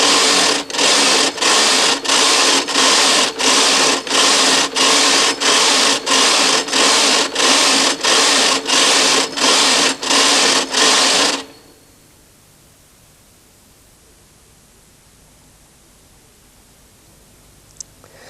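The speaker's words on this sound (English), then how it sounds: "bring the carriage back across the bed to select the needles" A Brother knitting machine carriage is pushed back and forth across the needle bed in about a dozen quick, loud, evenly spaced rattling passes. It stops abruptly, leaving near silence and a faint click at the end.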